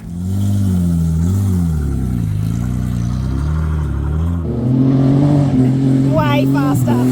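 Mitsubishi Magna street stock car engine droning steadily on track laps, a loud close in-car rumble rising and falling gently, then a step up in revs with a gear change and higher pitched whine near the end.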